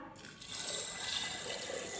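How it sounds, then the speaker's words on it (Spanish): Water is poured onto seeds being soaked for germination, starting after a brief pause and then running as a steady, close splashing stream to the end. "Entonces lo primero que vamos a hacer es agregarle agua"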